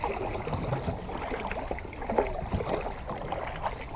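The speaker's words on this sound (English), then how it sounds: "paddling kayak." Paddle strokes splash and drip around a lightweight Slayer 12 LT pedal kayak on the water, a close, continuous wash of churning water.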